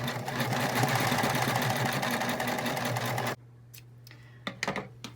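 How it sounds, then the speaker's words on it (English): A sewing machine stitches steadily across a fabric face mask, its fast mechanical whir continuous and close for several seconds before stopping abruptly, leaving a quiet hum and a few light clicks. "The other side, you just want to sew all the way across."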